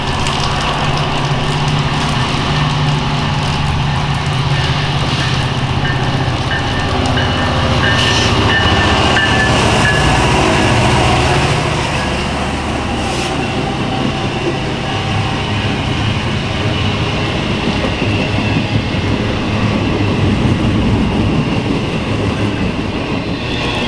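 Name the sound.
Norfolk Southern eastbound freight train with ES44AC and Tier 4 GEVO locomotives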